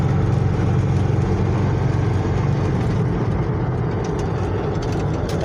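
A classic Chevy Blazer with an SM465 manual gearbox, its engine held at around 2,000 RPM, gives off a steady, loud, low rumble that stays fairly even for the whole stretch, with no voices over it.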